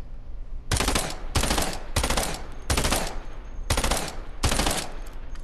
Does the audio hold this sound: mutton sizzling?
no